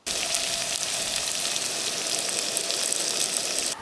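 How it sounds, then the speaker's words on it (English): Potatoes and onion with seasoning frying in a pan, a loud, steady, close sizzle that holds evenly throughout with no talk over it. "while those potatoes are cooking"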